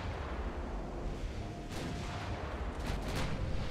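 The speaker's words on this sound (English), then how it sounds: "Let's have her do some more work against the class leader. See how much they can enjoy HE fire." Naval gunfire from a 1910-era Japanese warship exchanging HE shells in a battle, heard as a low, continuous rumble broken by a few sharp, booming cannon blasts near the middle and end, with no talking.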